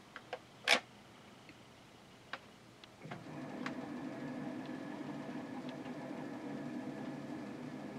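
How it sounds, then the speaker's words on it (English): A residential water meter for an inground sprinkler system ticks faintly and irregularly, then a steady hum of water flowing through the pipes rises and carries on under the sparse clicks, close and quiet. "The water meter is ticking."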